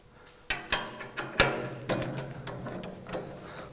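Bolts being tightened on a portable drum mixer bar with a spanner or ratchet: a series of sharp metallic clicks and clanks, several distinct strikes with brief pauses, close and fairly loud, with no talking.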